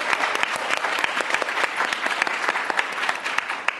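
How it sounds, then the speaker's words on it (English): Audience in Newark applauding students at a 2022 learning-acceleration think-tank event, with crisp, close clapping in a busy, continuous patter throughout. "Can we applaud our students that are in the house?"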